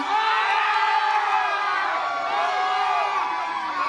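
A crowd at a giveaway event shouts and cheers loudly on cue, a dense mass of high, excited voices and whoops, sustained and close.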